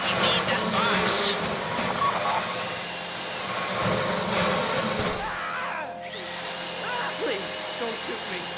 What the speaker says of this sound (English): If the drill burns out, this whole thing will take too long.